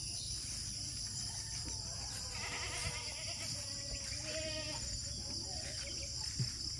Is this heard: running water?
no